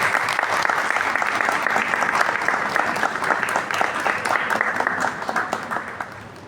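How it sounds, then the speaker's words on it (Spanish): An audience claps steadily and densely for a performer at a spooky-themed reading event, a broad continuous wash of hand claps that holds for several seconds and thins slightly toward the end. "Fuerte el aplauso para Daily Venegas que está aquí adelante."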